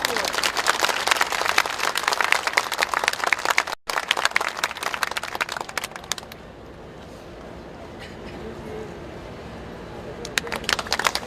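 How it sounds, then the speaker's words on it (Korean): A large outdoor crowd at a candlelight vigil for Sewol ferry victims applauds loudly for several seconds, then the clapping dies down into a quieter murmur before scattered clapping returns near the end. "박수 부탁드립니다."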